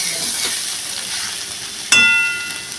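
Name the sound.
chopped tomato added to hot pan for fish head curry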